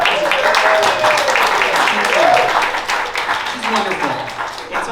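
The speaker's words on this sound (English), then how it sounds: "Give her a round of applause." An audience applauds a guest with loud, steady clapping that fills several seconds, mixed with some cheering and crowd noise.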